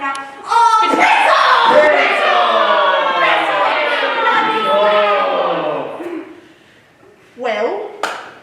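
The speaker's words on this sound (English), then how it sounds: "there's quite a bit of anger and tension in this crowd before me here today" An angry crowd shouts, many overlapping voices yelling loudly together, then dying away before a brief renewed outburst near the end.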